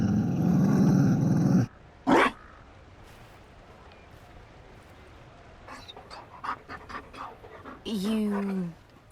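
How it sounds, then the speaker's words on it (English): A Mabari war dog in Dragon Age Inquisition pants rapidly up close, then after a short gap gives a few low growls and huffs, ending in a brief whining vocal sound. "You found a dog?"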